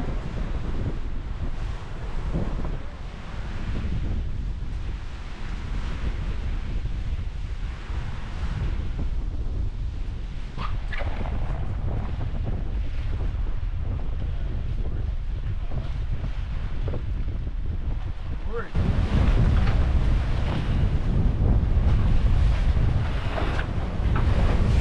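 Open-sea waves around a Leopard 50 sailing catamaran crossing the Gulf Stream near the Bahamas, a constant loud rushing wash mixed with wind buffeting the microphone, growing stronger near the end.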